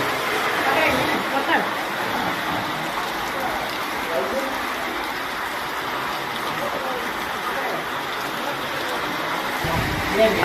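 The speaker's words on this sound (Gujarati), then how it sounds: "મંદિરનું પાણી સતત ચાલુ ચાલુ રહે" Water flows without pause at a Shiva temple, a steady broadband rush at moderate level that stays even throughout.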